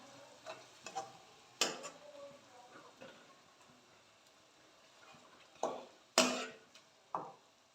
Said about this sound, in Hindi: ये सारा ऐड कर देंगे हम इसमें और अच्छे से मिक्स कर देंगे